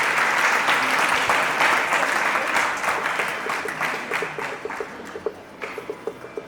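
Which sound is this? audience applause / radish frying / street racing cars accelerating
audience applause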